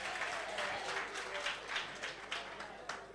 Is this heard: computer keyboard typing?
no